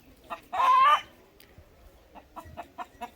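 Frizzle chickens on a hillside farm: a rooster lets out one loud burst of crowing, then hens cluck in short scattered calls nearby.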